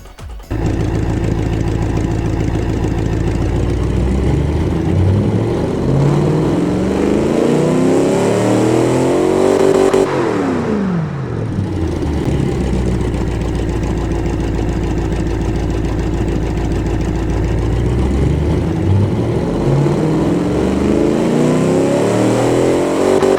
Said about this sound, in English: Let's run this engine.